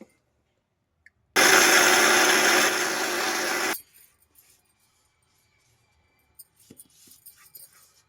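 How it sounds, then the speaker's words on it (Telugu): A kitchen mixer grinder grinds fried flax seeds with chillies into a spice powder, a loud whirring roar that starts suddenly, runs for about two and a half seconds, eases slightly, then cuts off. Faint clatter follows. "మిక్సీ అయిపోయింది"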